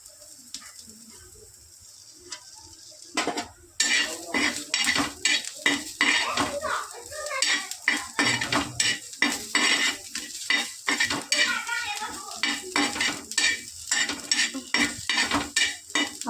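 Grated coconut being roasted in a pan, heard as rapid, repeated metallic scrapes and clinks of a spoon stirring, with a faint sizzle underneath; after a quiet start, the stirring continues steadily and fairly close.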